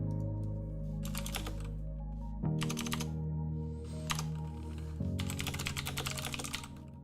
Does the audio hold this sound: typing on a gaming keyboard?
yes